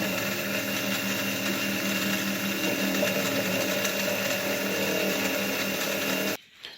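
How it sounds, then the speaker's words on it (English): Milling machine cutting a slot into a piece of iron, a steady loud whirring motor drone with a gritty cutting chatter that holds constant for several seconds, then stops suddenly. "So I've chucked it up in the mill, and I'm going to put the slot into it."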